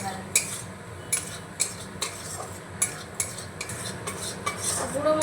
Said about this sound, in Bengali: গুঁড়ো মশলাগুলো দিয়ে আমি 2 মিনিট মতো বন্ধুরা নাড়াচাড়া করে নিয়েছি